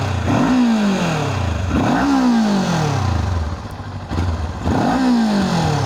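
A Kawasaki Ninja 400 sport motorcycle engine revs hard three times, each rise in pitch sweeping up and falling back, with a rough clattering idle between the pulls.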